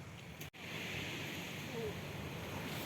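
Ocean waves at a beach in Dinahican, Infanta, Quezon, a constant soft broadband wash of surf with wind noise, steady and moderately faint, broken by a brief dropout near the start.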